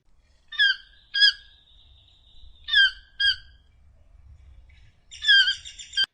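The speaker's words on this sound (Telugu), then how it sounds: "వాటిలో ప్రపంచంలోనే అతి బిగ్గరగా అరిచే టోక్యూన్ బర్డ్ కూడా ఈ అడవులలోనే ఉంది." A toucan in the Amazon rainforest gives a series of loud, croaking calls in short separate bursts, clear against a quiet background.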